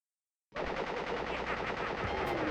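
A fully loaded Tommy gun rattles off a sustained automatic burst in Crash Bandicoot, starting abruptly after a half-second of silence and continuing loud and steady to the end, with no voices.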